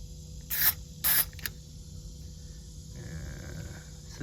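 Two short hissing bursts of contact cleaner spray on the controls of a 1969 Zenith color TV during restoration, a third brief puff after, then quiet handling noises over a low hum.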